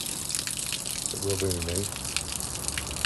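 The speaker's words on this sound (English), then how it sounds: "Just to let all the cold water out of the pipes" Cold water drains from household pipes and gushes steadily out of an improvised outside tap during a bathroom renovation, a continuous moderate rush with someone speaking over it.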